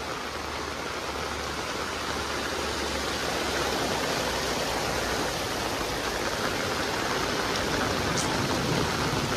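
Heavy rain pours steadily in Huajuapan de León, a dense, continuous hiss of downpour on surfaces that stays loud and unbroken throughout, with no talking.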